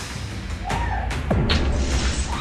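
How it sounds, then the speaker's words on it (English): An axe smashing through house windows during a break-in, heavy crashing impacts and glass breaking in several bursts against a loud, noisy background with no talk. "Surveillance video catches her as she's breaking these windows open."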